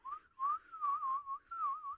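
A video game character whistles a wavering tune alone, clear and steady over two seconds in a murder-mystery game set in Liberty County.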